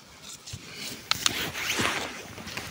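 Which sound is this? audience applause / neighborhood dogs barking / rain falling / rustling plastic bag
rustling plastic bag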